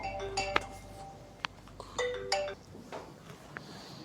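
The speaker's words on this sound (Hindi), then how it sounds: "रिंग बजती रहती है" An iPhone ringtone rings in a classroom, a few short bright melodic chime phrases recurring over a few seconds against a quiet room background.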